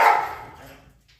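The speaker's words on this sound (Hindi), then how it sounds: "कितनी भयानक तरीके से भौंकती है।" A dog, a large pet shown off in a home, lets out one loud, close, harsh bark that fades into a brief rumbling growl.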